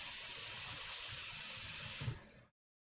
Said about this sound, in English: I'm gonna put some water in this bowl.